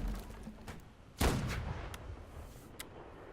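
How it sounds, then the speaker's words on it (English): Cannon fire in the video game Holdfast: Nations At War during a coastal siege, with one heavy booming shot near the middle and fainter distant reports before and after, set against a low battlefield rumble. "See, those boats over there are already starting to take fire from these cannons."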